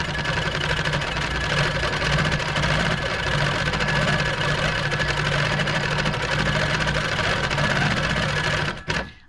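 A sewing machine stitches freehand pebble quilting along a ruler, whirring in a fast, even rhythm for about nine seconds. It stops abruptly at the end.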